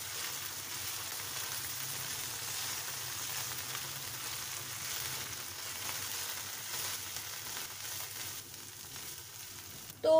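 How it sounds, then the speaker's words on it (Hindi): Broccoli sautéing in hot oil in a pan, a steady close sizzle and crackle running the whole time with no talking, ending in a short louder knock. "ऑयल डालने के बाद इसके अंदर हम ब्रोकली डालेंगे। और ब्रोकली को हल्का सा सॉटे कर लेंगे।"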